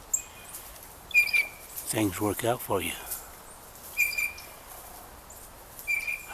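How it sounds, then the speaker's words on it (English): Birds chirp and call repeatedly in a backyard where cardinals visit, short bright calls recurring in the background while someone talks over them. "And you hear a lot of birds in the background too."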